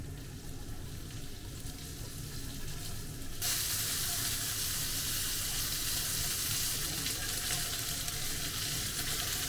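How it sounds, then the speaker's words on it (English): Meat and vegetables fry in rice oil, a steady close sizzle that jumps louder and brighter about a third of the way in as ingredients hit the hot oil, then holds a dense crackling hiss. "Now I'm going to put kome abura, which is rice oil, and I'm gonna cook meat and vegetables"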